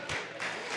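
A wrestling crowd at a table match cheers and claps the wrestlers on, a brief dense wash of applause and noise that swells in two bursts.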